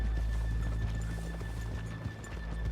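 A horse's hooves clip-clop steadily in Red Dead Redemption 2 gameplay, with a whinny mixed in, heard fairly close and alone against a low steady game ambience.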